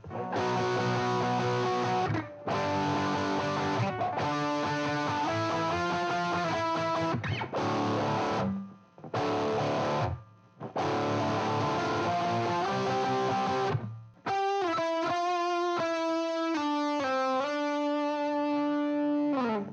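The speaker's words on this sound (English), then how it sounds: "Starting with the Boss DA2 Adaptive Distortion." Electric guitar played through a Boss DA2 Adaptive Distortion pedal into a Universal Audio Lion '68 Super Lead amp, crunchy sustained chords and riffs in several bursts with short pauses, ending on a bright, singing lead line.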